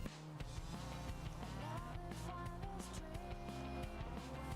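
Video game cutscene: car engines rev and roar with tire squeals, set against a low rumbling background at moderate volume.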